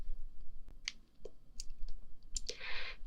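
A handheld tally counter gives a scattered series of sharp, close clicks at irregular intervals, quiet and intimate, ending with a brighter rattling burst.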